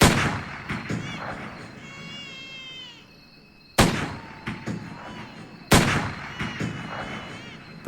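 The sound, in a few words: three gunshots echoing across the jungle before daybreak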